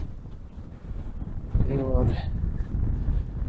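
Strong winter wind sweeps across a rural farmstead, buffeting the microphone in low, gusting rumbles throughout while someone speaks briefly over it.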